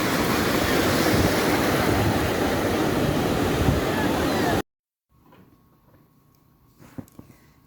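Sea waves breaking on a shore, a loud continuous wash of surf and rushing water with wind noise, close to the microphone, cutting off abruptly to near silence followed by faint scattered sounds.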